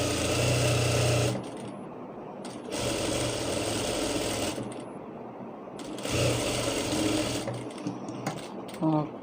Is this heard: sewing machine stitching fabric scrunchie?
yes